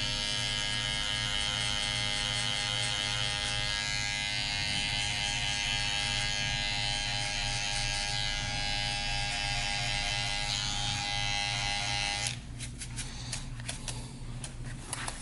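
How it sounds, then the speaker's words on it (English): Electric hair trimmers buzz steadily and close up during a bald taper haircut, a sustained even motor drone that becomes rougher and choppier near the end as the blades move against the head. "Then we can follow this up with our trimmers just to finish balling this out right here."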